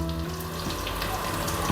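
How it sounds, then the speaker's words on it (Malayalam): Garlic and ginger drop into hot oil after curry leaves, for a South Indian kakkarchi fry; a close, even hiss of frying with a low steady hum underneath, no talking. "നമുക്ക് ഇനി വെളുത്തുള്ളി ഇഞ്ചിയും കൂടി ഇട്ട് കൊടുക്കാം"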